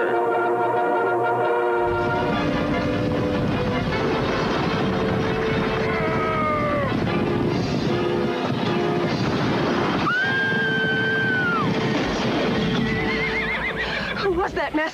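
Horses neigh and whinny in several long, loud calls over rapid galloping hooves in a TV promo, with dramatic background music running underneath throughout.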